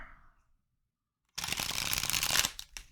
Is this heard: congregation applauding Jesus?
no